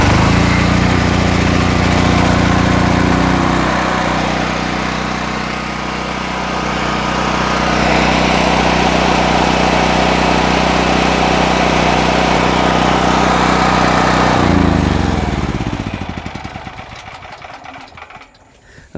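A WEN 11000-watt dual fuel portable generator cranks up and runs on gasoline, giving a loud, steady engine drone close by that holds for about fifteen seconds before winding down and fading.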